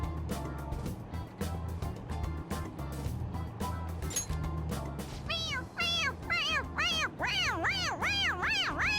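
Repeated bright meows from a squeezable toy cat in Persona 5 Royal come in a quick series, growing busier toward the end, loud and close over a steady low game backdrop.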